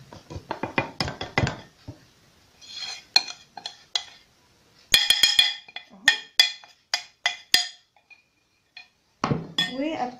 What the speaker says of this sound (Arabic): وابتدي بقى اخلط العجينه دي كده مع بعضها